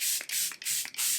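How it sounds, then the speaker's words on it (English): Charlotte Tilbury makeup setting spray hisses from its bottle in four short, close bursts spaced evenly apart, with no one talking. "He did finish off with a little bit of setting spray."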